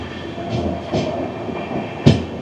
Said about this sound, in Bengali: আমাদের ট্রেন এই মুহূর্তে পার করছে উত্তরপ্রদেশের ইটাওয়া জংশন